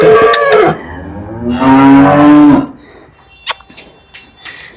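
A cow moos loudly twice in long, low, drawn-out calls, close by, followed by quieter farmyard clatter.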